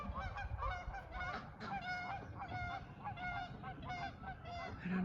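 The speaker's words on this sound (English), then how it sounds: "There are wild geese." Wild geese by a pond honk repeatedly in overlapping bursts as they take flight, a noisy flock calling continuously at moderate distance.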